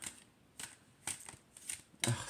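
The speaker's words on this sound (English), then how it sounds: "We'll do a side shuffle." An oracle card deck is side-shuffled in quick, soft riffling bursts, about five close, faint rustles in a steady rhythm with no talking.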